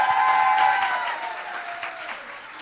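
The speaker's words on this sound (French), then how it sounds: "Une bonne main d'applaudissements." A live audience at an interview event breaks into steady, dense applause that peaks early and then gradually tapers, filling the room without any talk over it.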